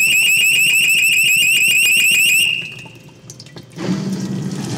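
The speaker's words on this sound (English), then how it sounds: "you'll also get a high water alarm because it's a battery powered high water alarm system." Battery-powered high water alarm from a boat bilge pump switch system, sounding as a loud, rapid pulsing electronic beep for about two and a half seconds before cutting out, followed by a quiet pause and then a burst of rushing water noise.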